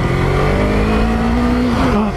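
A Yamaha MT-03 motorcycle that has just finished its break-in at about 1700 km runs with a loud, steady engine drone and a slowly rising pitch, close to the microphone, with no talk over it.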